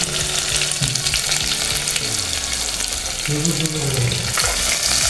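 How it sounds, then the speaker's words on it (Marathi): Onion frying in a hot oil tadka for khichdi, along with chillies, gives a constant loud, close sizzle and crackle, with faint stirring clinks beneath it and no talking. "पाहू शकता कसा आपला कांदा चुरमुर करत आहे"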